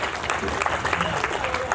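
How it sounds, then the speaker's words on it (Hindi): Audience applause at a Hindi kavi sammelan poetry reading, a dense steady clatter of many hands lasting the whole moment, fairly loud with crowd murmur mixed in. "एक बार जोरदार तालियां बजा दीजिए"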